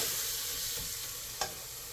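A spoon stirs white chole masala in a pan, steady soft sizzling with a single brief scrape near the end, quiet and with no talk.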